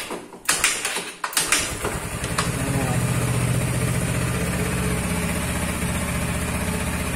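A motorcycle with a weak, worn-out battery is kick-started on a cold morning: a few sharp mechanical clunks, then the engine catches and settles into a steady, close, even idle.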